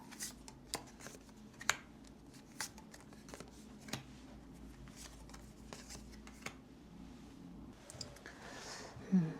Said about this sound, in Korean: 흐름 카드도 3장을 뽑아볼게요